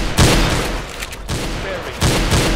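Loud bursts of gunfire in the Roblox shooter Arsenal, three heavy volleys of rapid shots separated by brief lulls, close and dominant over the game's background noise.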